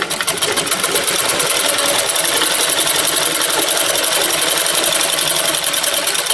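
A sewing machine runs a single seam along the bottom hem of a trouser leg during tailoring, with a loud, continuous rapid needle rattle throughout.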